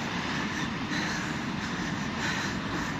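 A train passes in Ryazan in May, a steady, loud, continuous broadband rumble and roar from start to finish with no voices.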